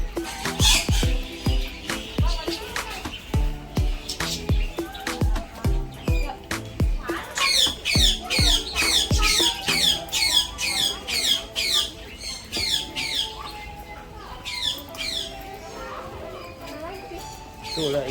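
Loud, repeated harsh squawks and chirping calls from birds at Palembang Bird Park, coming in rhythmic bursts close by, with people talking over them.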